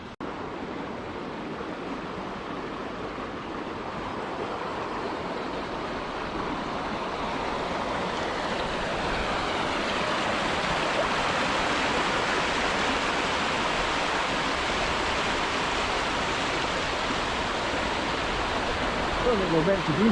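Broad, steady rush of water pouring over a river weir beside a concrete linear fish pass, loud and continuous throughout with a slight swell toward the end and no talking.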